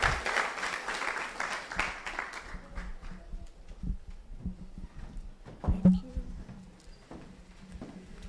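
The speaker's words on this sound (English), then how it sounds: "Give her a round of applause as she comes to share her incredible talent." An audience at a youth leadership awards ceremony applauds as a performer comes up to play a musical piece; the clapping is loudest at first and fades into scattered claps and room noise, with voices underneath.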